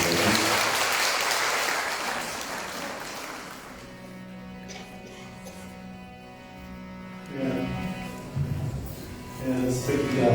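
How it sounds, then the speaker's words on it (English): Audience applause at a Guru Swamigal Aradhaana music event, loud crowd clapping for the first few seconds that fades out, then a sustained hum and tones, with voices and sounds rising again near the end. "Let's give a round of applause."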